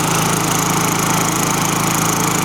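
A cheap push mower's small engine runs at a steady, loud, close idle with an unbroken buzzing drone and no voices.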